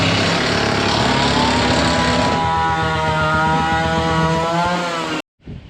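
A power drill bores through a barn post and board, a steady loud motor whine that shifts to a higher, strained pitch midway and then cuts off abruptly near the end.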